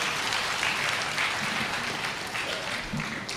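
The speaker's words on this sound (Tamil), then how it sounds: "அவருக்கு ஏன் இவ்வளோ கைதட்டு" Sustained applause from a seated audience at a Tamil public speaking event or debate, a dense steady clapping that fills the hall for several seconds with no voice over it.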